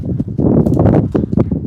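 A small horse moving during groundwork training, with close hoof thuds and clip-clops on the ground in a quick, uneven rhythm.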